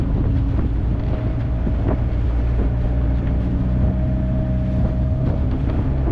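Strong wind at sea during a boat crossing, buffeting the microphone in a continuous heavy rumble with gusty swells, over the steady drone of the boat.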